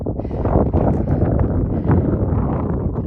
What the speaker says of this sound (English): It's windy, so I'll keep it brief.